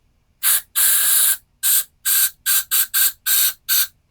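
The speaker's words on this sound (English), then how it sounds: "Okay, so I'm going to spray some in." Aerosol spray puffed in nine short, loud hisses of uneven length into the engine of a non-running lawnmower that is not a Craftsman, with brief silent gaps between bursts.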